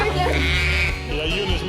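Sheep bleating in a long, loud, quavering call that carries for more than a second, close by and clear over a low background rumble.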